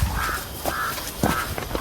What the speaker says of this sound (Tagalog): uwak ba?